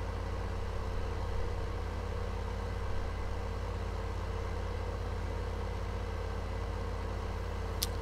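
A tractor engine in the video game Farming Simulator 15, a steady low droning rumble idling at an even level for the whole stretch, with a single faint click near the end and no speech.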